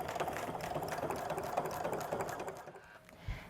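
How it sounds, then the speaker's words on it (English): A sewing machine fitted with a jeans needle stitches through many thick layers of a fashion backpack, giving a quiet, steady mechanical whirring chatter that stops near the end. "Now we are sewing through a lot of layers here"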